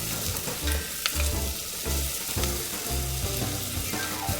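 Garlic frying with onion in a hot pan: a steady, dense sizzle with bursts of stirring and scraping against the pan, close and continuous with no talking.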